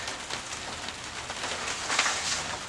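Steady rain falls on a greenhouse roof, making a soft, even patter of drops with a few slightly louder taps, close by and heard alone.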